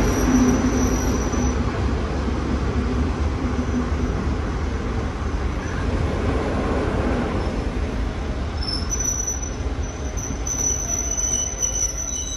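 A train rumbles loudly past at close range at a station, a continuous roar of wheels on rails with high metallic squealing rising near the end.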